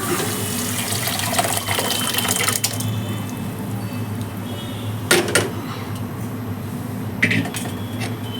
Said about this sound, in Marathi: आता बघा मी डाळ टाकते